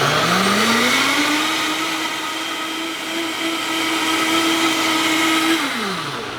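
A Vitamix 750 blender runs at close range, its motor whining up in pitch, holding a steady loud roar with a rising and falling tone, then dropping back down just before it stops.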